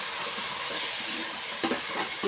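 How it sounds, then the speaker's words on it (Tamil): Onions, tomatoes and mixed vegetables sautéing in a pan for a chickpea sundal kara kuzhambu, giving a steady close sizzle and hiss with a couple of brief stirring scrapes near the end. "நல்லா வெங்காயம் தக்காளியோடு இந்த காய்கறிகளையும் நல்லா வதக்கிக்கணும்."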